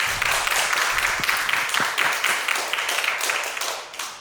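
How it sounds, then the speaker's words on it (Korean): Audience at a 2023 Yeoncheon County youth policy proposal presentation contest applauding a student presenter, a sustained, even wash of clapping from many hands without any talking. "큰 박수로 맞이해 주시기 바랍니다"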